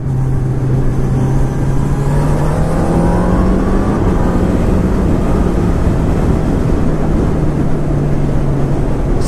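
A 2019 Honda CB1000R Plus motorcycle engine pulls steadily up through the revs under constant loud wind rush on a road ride, the engine tone climbing gradually.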